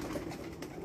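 A female pigeon gives a brief, soft, throaty coo close by, a low murmuring sound under a second of quiet background.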